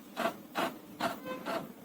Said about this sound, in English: So I have given test page. See, the printer is getting activated.